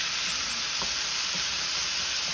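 Egg roll filling seasoned with chili sauce sautés in a pan with a dense, even sizzle and faint stirring taps throughout; no one speaks.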